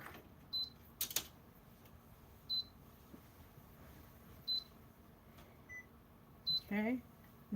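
A heat press gives short high beeps at regular intervals of a couple of seconds, with a low background hum and a brief voice near the end.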